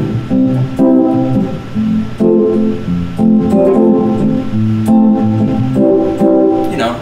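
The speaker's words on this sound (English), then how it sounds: "the real key is the effect on the guitar, which right now I'm using an auto wah" An electric guitar plays rhythmic chords with a quacking auto-wah sweep on each strum, loud and close, repeating in a steady groove.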